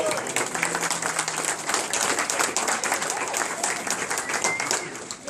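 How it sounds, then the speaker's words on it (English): Applause at a Raffield Tire Master company Christmas gathering as an employee named Randy is recognised, a steady crowd of hands clapping for several seconds, fairly loud and continuous. "Y'all give Randy a round of applause."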